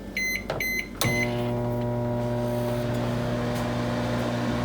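A microwave oven reheating coffee: a few short beeps from the keypad, then a click and the steady loud hum of the oven running continuously.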